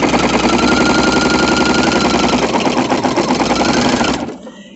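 Sewing machine with a walking foot stitches a quilt straight from corner to corner, a loud, steady, rapid mechanical hum that runs continuously and then winds down at the end.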